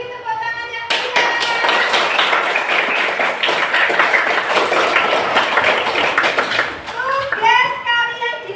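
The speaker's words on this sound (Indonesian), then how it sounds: "Beri tepuk tangan yang meriah." A classroom of children claps loudly and steadily for about six seconds, with young voices chattering before and after the applause.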